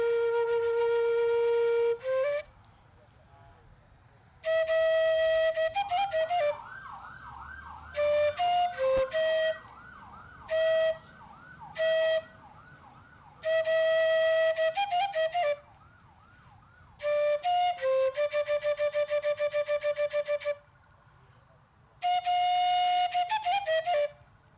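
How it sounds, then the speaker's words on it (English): A flute plays a popular Ghanaian funeral tune at a memorial for helicopter crash victims, with clear, piercing sustained notes and fluttering runs in phrases separated by pauses, against a low crowd murmur. "Blow the flute, and there he is. This is a popular tune in Ghana when someone dies."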